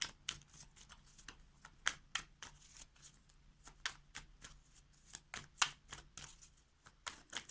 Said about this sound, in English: as soon as I started shuffling your cards